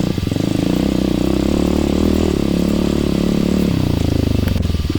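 X-pro Storm 150 DLX four-stroke motorcycle ridden slowly through rocky enduro terrain, its engine chugging loud and close in a steady low-rev putter with a slight rise and fall in pitch.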